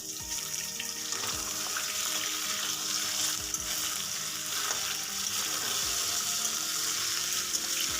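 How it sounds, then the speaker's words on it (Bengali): Chicken frying in a pan with onions already browned to a deep red, a steady close sizzle running without a break, with faint stirring and watery crackle mixed in, and no voices. "দুই থেকে 3 মিনিট চিকেনটা খুব ভালো করে একটু ফ্রাই করে নেব।"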